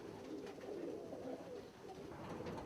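Pigeons coo softly in a loft, their low rolling calls repeating steadily and overlapping close by with no talk over them.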